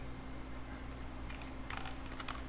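Fingers type briefly on a computer keyboard during a JavaScript coding session, a quick cluster of soft clicks over a constant hum of background noise.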